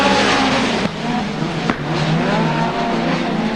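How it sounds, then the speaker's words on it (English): A race car at a circuit race crackles and pops on the overrun amid a loud, steady wall of engine roar, with sharp cracks standing out briefly over the continuous racing noise. "now a bit of crackles there from Barry Watt's car as Gordon Clough moves through and up to 3rd position."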